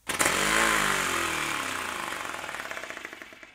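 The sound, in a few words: 3D printed compressed air engine running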